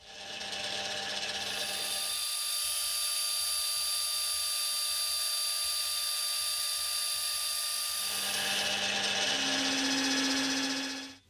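A metal lathe turns steel stock with a long overhang while a die holder is being made, giving a loud sustained whine with high ringing tones and chatter that drops away midway, then rises again near the end.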